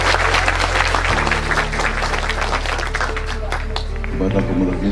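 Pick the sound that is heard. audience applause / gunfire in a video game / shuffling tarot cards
audience applause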